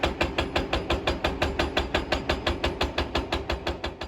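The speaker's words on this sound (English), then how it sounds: "the use of a hydraulic hammer to repeatedly strike rock to break it" A hydraulic hammer pounds rock at a construction site in East Lexington, landing fast, steady strikes about five or six per second, loud and close, with an engine droning underneath.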